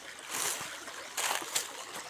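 River water flowing at an outdoor washing spot, a soft broadband rush with small splashes and trickles, fairly faint and steady with brief louder surges.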